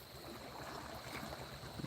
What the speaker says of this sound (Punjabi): ਤੁਸੀਂ ਦੇਖ ਸਕਦੇ ਜੇ ਪਾਣੀ ਦੀ ਸਪੀਡ ਦੇਖੋ ਕਿਵੇਂ ਆ ਗੋਲੀ ਵਾਂਗੂ ਪਾਣੀ ਜਾਂਦਾ ਇੱਥੋਂ